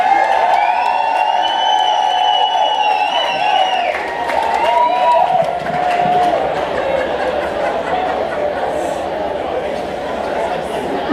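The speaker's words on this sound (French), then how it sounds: "une bonne main d'applaudissement pour Monsieur Pierre Gravel" A crowd applauds and cheers for Pierre Gravel before a patriotic speech in Amos, a steady wash of clapping with voices and whoops mixed in, holding at an even level throughout.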